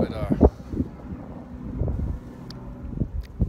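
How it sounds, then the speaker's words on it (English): Gusty wind buffets an outdoor microphone in low rumbling surges beneath loud music and voices, with a small tourist helicopter somewhere in the scene. "Sorry that the wind blows a little bit."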